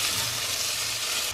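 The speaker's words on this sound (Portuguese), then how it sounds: "já deu uma fritadinha aqui no bacon e na linguiça, tá vendo? Soltou bastante gordura já." Bacon and sausage fry in a pan, giving off a continuous close sizzling crackle of hot fat that stays level for the whole short stretch.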